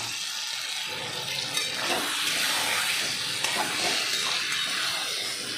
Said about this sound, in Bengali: চলো এবার ম্যারিনেট করা মাংসটা দিয়ে দেবো।